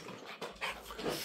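A purebred Maltese dog pants and whimpers softly up close, a faint, breathy run of small huffs and whines with no talking.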